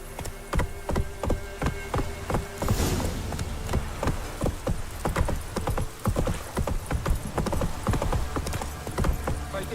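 Hooves of Roach, a horse in The Witcher 3, pound steadily at a gallop, a rapid run of clip-clop beats over a dense bed of game ambience and rustling.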